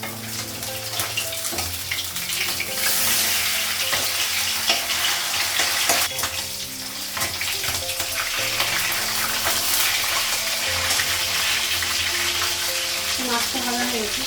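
Fish frying in oil in a pan, a loud continuous crackling sizzle that runs the whole time, with occasional clinks and stirring in the kitchen and no speech.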